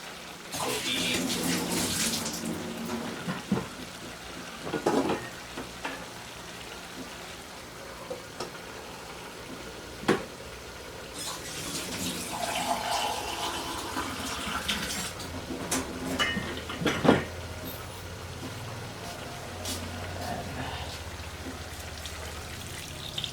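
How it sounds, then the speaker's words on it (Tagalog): Water pours and splashes in uneven bursts into a cooking pot while making chicken adobo, with scattered clinks and knocks of the pot nearby, broken by short pauses. "Maglagay din tayo ng tubig."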